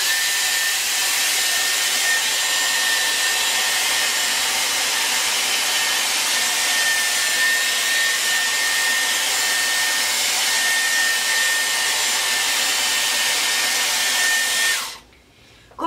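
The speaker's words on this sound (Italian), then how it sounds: "Vado a mettere la velocità al massimo e accendo e vi faccio vedere una ciocca." Dyson Airwrap hair styler running at maximum speed, a steady loud airy roar with a faint high whine, continuous for about fifteen seconds before cutting off near the end.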